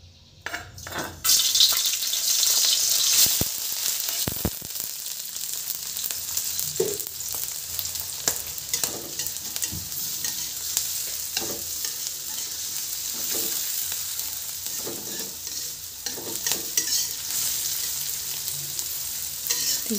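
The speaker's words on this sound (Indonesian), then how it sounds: "Ditumis sampai harum" Sliced shallots, garlic and red chili sauté in a pan for vegetable noodles, a continuous close sizzle broken by repeated scraping and stirring knocks, with no talking.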